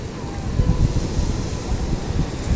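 Wind buffets the microphone outdoors near what may be the sea, a heavy low rumble with gusty swells throughout; no one speaks over it.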